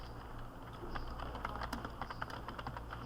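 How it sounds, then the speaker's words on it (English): Steady typing on a computer keyboard, a continuous run of close, quick key clicks with uneven rhythm over a faint low background hum, no talking. "let me just type here"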